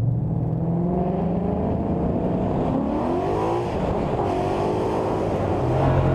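A 2013 Mustang Cobra Jet with a newly installed manifold drives along with a loud, deep engine note. It rumbles steadily and rises and falls in pitch as the car pulls, with no talk over it.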